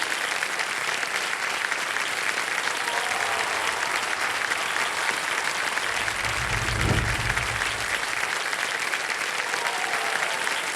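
Studio audience applause for the India women's national cricket team on a television quiz show, a sustained, dense clapping roar lasting about ten seconds, with a low musical swell rising midway beneath it.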